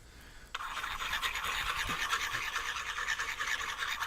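A knife edge is rubbed with tight circular strokes to strip its finish so it will strike a ferro rod, making a steady, close scraping rasp that starts abruptly and continues unbroken, with no talking.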